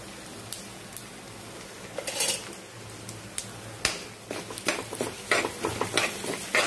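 Tempering of urad dal, chana dal, moong dal and cumin frying in a pan, with a spatula scraping and clinking in irregular strokes over a faint sizzle, growing busier toward the end.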